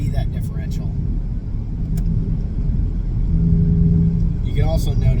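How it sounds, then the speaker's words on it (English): A Dodge Challenger's rear differential whines as the car drives, a low steady road rumble with a faint tonal hum inside the cabin, while someone talks over it in bursts. "you can really hear the differential right now. It's coming from the rear end"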